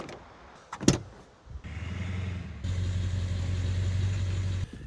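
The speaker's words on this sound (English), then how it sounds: "let's go get in the truck" A truck is heard from inside, with door clunks early on, then a low steady engine drone that starts up and holds loud and even before cutting off near the end.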